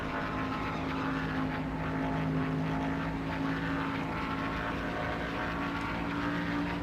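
Race car engines drone at the Pocono 500 in a steady, continuous tone with little change, heard from a distance at moderate loudness, with no talking.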